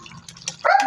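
A dog gives a single short bark close by, a brief sharp burst after a moment of quiet kitchen noise.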